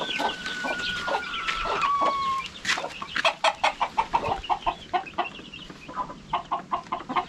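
Chickens cluck and chatter nearby in a steady, rhythmic stream of short calls, with a faint whistle-like tone early on.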